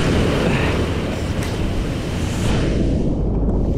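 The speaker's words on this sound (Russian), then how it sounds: "И волны сбивают с ног." Sea surf breaking on a stony Turkish beach in December, a loud continuous wash of crashing water and rushing spray with no clear pauses between waves.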